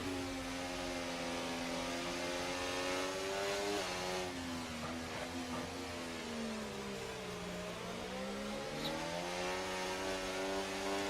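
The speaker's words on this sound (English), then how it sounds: "some hard work there by Barney will make that move happen, but still has to fend off the McLaren" Race cars in a sim racing game at Melbourne, including a McLaren, with continuous loud engine whine rising and falling through gear changes as the cars run close together, and no talk.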